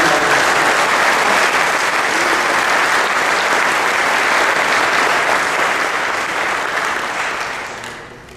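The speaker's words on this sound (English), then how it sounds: "give yourself a round of applause" A large audience at the Dubli Summit 2015 conference claps loudly and steadily, with dense, sustained applause that fades toward the end.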